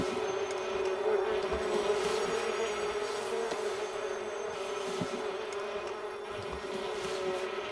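Bees buzzing around a hive in The Sims 3, a steady, dense insect drone holding at an even level throughout with no talk.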